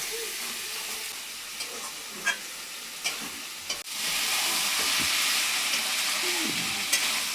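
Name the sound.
sautéing spice masala in a pan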